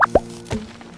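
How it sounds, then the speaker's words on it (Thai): Short hollow pop like a bottle being opened, triggered by clicking in the farming game Farm Together, a quick pair of plops followed by a softer one, close and clear. "เหมือนเปิดขวดอะไรสักอย่าง"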